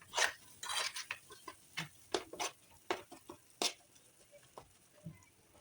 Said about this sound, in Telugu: ఇలా మొత్తం కలుపుకొని మిక్స్ చేసుకోవాలి.